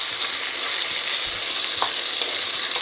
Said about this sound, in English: the capsicums and paneer are in the wok. They've been cooking for a little bit.